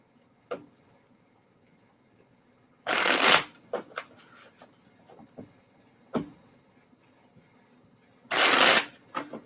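A deck of cards is riffle-shuffled twice in loud, close bursts of rapid flapping, with scattered single card snaps and taps between them in an otherwise quiet room.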